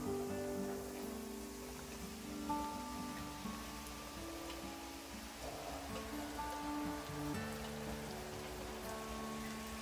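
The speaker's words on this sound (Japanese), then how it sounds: "エリンギを入れていきます。" King oyster mushrooms drop into hot garlic oil in a pan, giving a steady, soft crackling sizzle like light rain that continues evenly throughout without speech.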